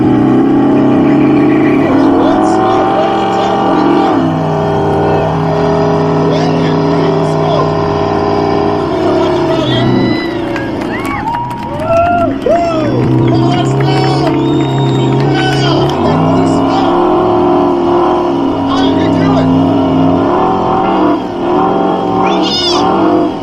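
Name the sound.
cars revving at a burnout contest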